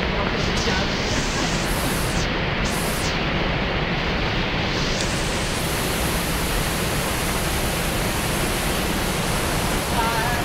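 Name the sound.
Rhine Falls waterfall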